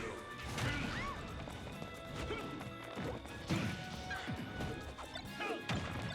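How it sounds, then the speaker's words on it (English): Kazuya lands an up smash in Super Smash Bros. during a tournament losers final against Peach, amid a busy mix of repeated sharp impact cracks, whooshes and crowd-like game noise that recur every second or so. "Very bold up smash off the electric."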